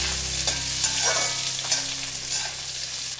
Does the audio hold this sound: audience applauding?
no